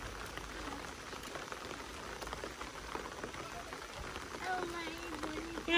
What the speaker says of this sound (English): Rainy day to the bus stop.